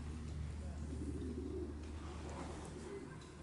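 Pigeons cooing inside a racing pigeon loft, a low, soft murmur of coos running continuously under steady background hum, with faint voices talking nearby.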